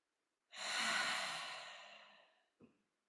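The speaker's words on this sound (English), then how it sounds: "In through the nose and out through the mouth. One further cleansing breath." A single slow cleansing breath in a yoga session, drawn softly and released as a long airy exhale through the mouth, quiet and close, followed by a brief small sniff.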